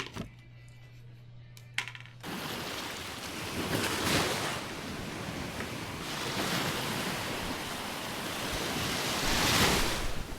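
Ocean waves break and wash onto a Florida beach, a broad rushing surf that swells and recedes in several surges, heard close with some wind buffeting the microphone after a quieter start.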